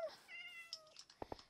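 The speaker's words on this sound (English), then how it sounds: "Shut up, cat." Minecraft cat meowing in the video game, a couple of drawn-out tonal meows followed by a few short in-game clicks, quiet and clear with no talking.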